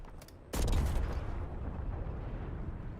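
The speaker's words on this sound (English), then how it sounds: "Napalm strike ready for delivery" A napalm strike in a video game lands with a sudden loud explosive burst, followed by a long rumbling roar of fire that slowly fades over the next few seconds.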